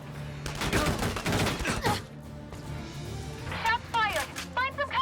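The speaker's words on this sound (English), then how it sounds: "Shots fired! Find some cover!" Gunfire bursts from the Valkyria Chronicles 4 game mix up front, mixed with clatter and impacts under in-game voices talking, followed by several short high whistling shot sounds toward the end.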